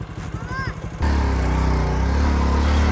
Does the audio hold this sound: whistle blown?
no